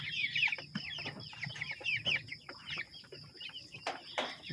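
Chickens feeding together, a flock of fully grown birds clucking and chirping in a steady busy chorus close by, with light pecking and shuffling underneath.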